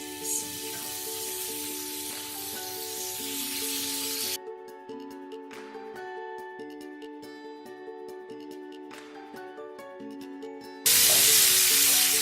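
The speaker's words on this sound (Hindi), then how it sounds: "लेकिन मैं इसे शैलो फ्राई कर रही हूँ।" Chicken malai tikka shallow frying in a hot pan gives a steady close sizzle, loud at the start and swelling again at the end, with music running throughout.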